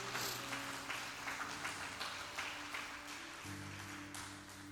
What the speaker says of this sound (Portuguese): Isso, aplauda o Senhor bem forte